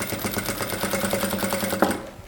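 Sewing machine running steadily as it stitches a decorative gold-thread seam on a Christmas quilt-as-you-go project, a fast even rattle of needle strokes close up, alone with no talk, stopping abruptly near the end.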